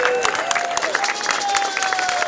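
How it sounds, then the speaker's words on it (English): Steady clapping from a crowd, dense and continuous, with a faint tonal whine running beneath it. "Let's give them a warm round of applause."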